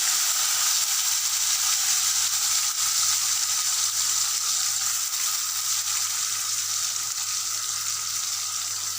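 Onion and ginger-garlic paste sauté in hot oil with curry leaves and popped mustard seeds for a Tamil mushroom gravy, a continuous loud sizzle and hiss close by, steady for the whole stretch with no talking.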